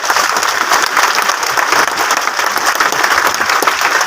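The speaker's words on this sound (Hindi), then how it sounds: "मैं रूल प्योर के लिए जोरदार तालियां चाहूंगा" Loud, steady applause from a seminar audience in Hazaribagh fills the whole stretch, a dense wash of many hands clapping at once with no talk over it.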